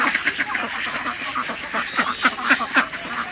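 Ducks on a duck farm quack in quick, overlapping bursts, close and lively throughout, with no talk.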